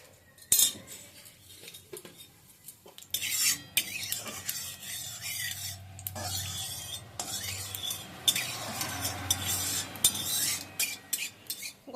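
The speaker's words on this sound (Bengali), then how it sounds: "পাতা জিরে আর লঙ্কাটা ভাজা হয়ে গেছে" Dried red chilli and whole cumin seeds fry in mustard oil in a kadai, with repeated metal spoon scraping and stirring clatter over a soft sizzle, close and clear with no talking.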